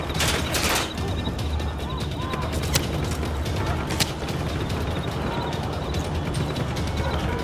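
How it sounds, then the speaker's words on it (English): Rapid gunfire in the video game Just Cause 3 rattles in sharp bursts at the start, then scattered cracks and mechanical clatter continue over a loud, busy background. "Gunfire!"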